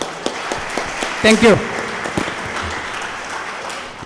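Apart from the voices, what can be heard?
audience applause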